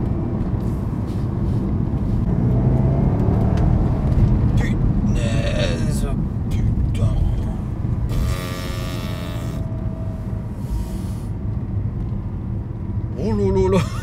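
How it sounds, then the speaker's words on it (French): A Porsche Panamera Turbo with its 500 hp V8 runs with the sport exhaust engaged, giving a deep, loud, continuous engine rumble. Voices talk over it throughout. "vous enclenchez l'échappement sport"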